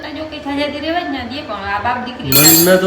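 Ice dropped into water in a glass, a bright clinking burst near the end that follows steady talking, close and fairly loud while the voice continues over it.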